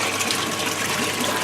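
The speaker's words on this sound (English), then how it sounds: "So currently draining the tank" Water gushing steadily from an aquaponics tank as it drains, a continuous broadband rush at close range with no talk over it.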